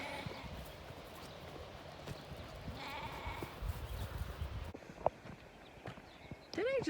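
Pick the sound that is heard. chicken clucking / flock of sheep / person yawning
flock of sheep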